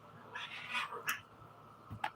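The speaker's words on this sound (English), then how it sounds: "trying to call the other cat to him." A cat lets out gravelly, rough meows while calling to another cat, two or three drawn-out cries close by with short gaps, the last one a brief sharp yowl.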